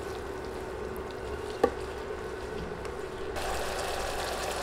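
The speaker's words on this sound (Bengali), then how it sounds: "এবার বাটা মশলাগুলো কিছুক্ষণ তেলে ভেজে নিব।" Garlic and ginger paste frying in hot oil for egg korma, a steady, soft sizzling hiss with one sharp click partway through and a slight rise in loudness near the end.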